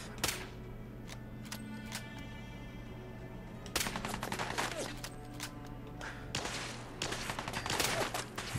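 Fallout 4 gunfire near a station, with rapid bursts and scattered shots that intensify partway through over a low steady hum, and a little speech.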